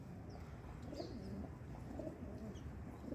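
Pigeons coo faintly from a rooftop, soft low gurgling calls drifting in and out over steady outdoor background hum, with a few distant bird chirps.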